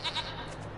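A sheep bleats in Wasteland 3, one short wavering bleat heard close and fairly loud against a steady game ambience.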